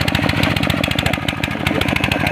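A used Sanyo water pump motor, rigged as a plant sprinkler, runs steadily with a fast, even pulsing hum and rattle, close and loud with no talk.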